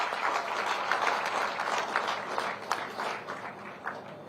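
A crowd claps steadily at a government event where a chief minister inaugurates projects, producing dense, moderately distant applause that tapers slightly toward the end.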